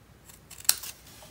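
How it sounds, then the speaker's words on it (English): A small pair of scissors trims paper while crafting New Year stars, giving a brief run of crisp snips with one sharp cut in the middle, close and fairly quiet with no talking. "Now I'm going to grab just a smaller pair of scissors"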